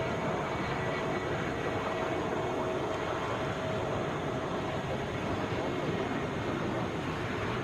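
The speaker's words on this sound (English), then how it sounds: "1580 to Asheville. It's a Boeing 717." A Boeing 717 airliner at Atlanta airport gives off a steady, distant engine roar that blends into broad airport rumble, with no one speaking.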